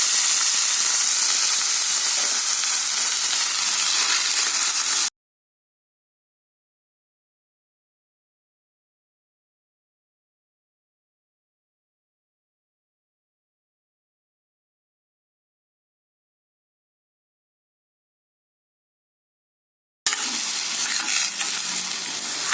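Soaked sago pearls and green chillies sizzle and hiss as they are stirred quickly in a hot pan for sabudana upma, with loud close frying in two bursts separated by a long stretch of silence.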